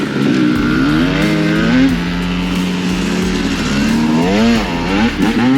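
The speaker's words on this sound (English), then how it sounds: "It was revving earlier, but tenía miedo because it sounded hella ugly." A small pit bike motorcycle engine revs up and down close by, a loud rasping buzz that rises and falls in pitch through several throttle blips.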